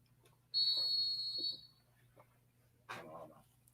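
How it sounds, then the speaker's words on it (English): A single sharp, high whistle blast lasting about a second, followed by a short rustle, in an otherwise quiet space. "He had to find his whistle."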